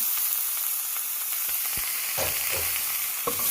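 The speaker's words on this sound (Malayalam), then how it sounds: "ഇതൊന്ന് ഇളക്കി മസാലയായിട്ട് നന്നായിട്ടൊന്ന് യോജിപ്പിക്കണം" Chicken pieces, about a kilo in large cuts, sizzle in a pan of spice masala for a toddy-shop style Kerala curry, with scraping stir strokes and clinks of the spoon near the end.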